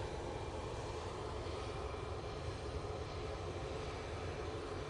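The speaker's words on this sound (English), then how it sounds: "TUI 737 MAX 8. Lined up, ready to go." A TUI Boeing 737 MAX 8 jet lined up for takeoff at Manchester Airport, its engines producing a steady, broad roar that holds evenly throughout, with no talking.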